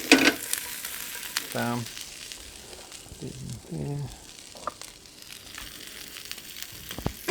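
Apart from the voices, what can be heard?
fish sizzling as it fries in oil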